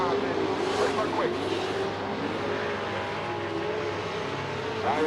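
Super sedan race cars lap Charlton Speedway on a Friday night, a loud sustained engine roar with rising and falling revs as cars pass, a commentator talking throughout.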